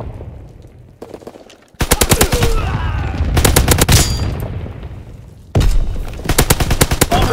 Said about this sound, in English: Anti-aircraft bursts commenced.